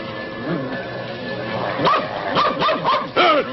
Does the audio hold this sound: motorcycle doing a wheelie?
no